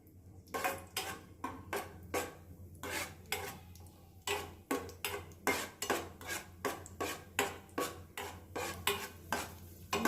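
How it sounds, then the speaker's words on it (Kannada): Cashew nuts frying until light brown in a pan while being stirred for a payasam, with a steady run of close metallic scrapes and clinks about once a second over a faint background hum. "ಇನ್ನು ಇದೇ ರೀತಿ ಈಗ ಗೋಡಂಬಿಲು ಅದೇ ರೀತಿ ಲೈಟಾಗಿ ಲೈಟ್ ಬ್ರೌನ್ ಕಲರ್ ಬರೋವರೆಗೂ ಚೆನ್ನಾಗಿ ಬಿಟ್ಕೊಳ್ಳಿ"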